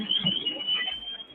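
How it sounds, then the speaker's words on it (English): A firefighter's air pack low-air alarm at a house fire shrills in a steady high continuous tone, fairly loud, with faint background noise beneath it. "that's the alarm to let them know that they're out of oxygen or getting ready to run out of oxygen"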